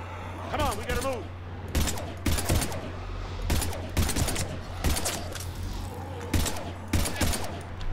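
Bursts of gunfire crack out repeatedly while husks are shot down in Mass Effect 3, loud and close, arriving in separate volleys with an excited voice talking between and over them and a steady low hum beneath.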